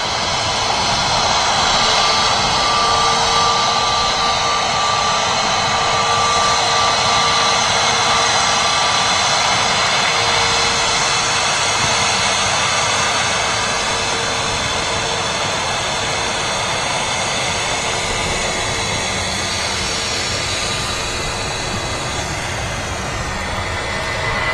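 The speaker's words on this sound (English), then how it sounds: "British Airways A319 shuttle service" A British Airways Airbus A319 departs Manchester Airport, its loud, steady jet roar filling the whole stretch without a break and no voices.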